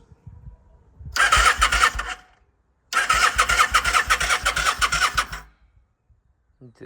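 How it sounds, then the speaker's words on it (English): A 2001 Kawasaki NV750 motorcycle engine cranks on the starter in two loud bursts, a short one and then a longer one of about two and a half seconds, churning rhythmically without catching, with silence between them. "See if we can start it up."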